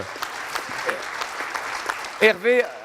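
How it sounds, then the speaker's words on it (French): At a national wine-tourism conference round table, the audience applauds a panelist, sparse scattered claps carried along under a speaking voice that rises briefly near the end. "On peut l'applaudir François, hein."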